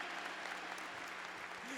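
A church audience applauds in steady, dense clapping that fills the whole moment, close and continuous with no pause.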